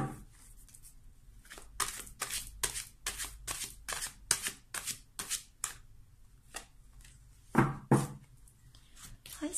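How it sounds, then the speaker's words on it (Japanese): An angel answer oracle card deck is handled and shuffled, making a series of crisp, papery riffling bursts that come in irregular clusters, close up, with short pauses between them. "エンジェルアンサー、こちらからカードを2枚取っていきたいと思います。"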